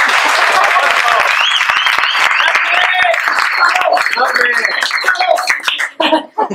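An audience at a Spanish-language talk applauds, with a dense, steady patter of many hands clapping over several seconds. Voices rise through the clapping, and it thins out toward the end.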